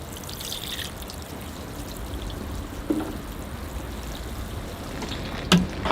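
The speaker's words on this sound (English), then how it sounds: "I am going to water the tree now." Water pours and trickles softly onto bonsai tree soil, a faint, continuous wash with a few louder splashes near the end.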